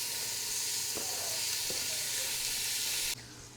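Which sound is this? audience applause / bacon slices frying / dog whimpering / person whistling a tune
bacon slices frying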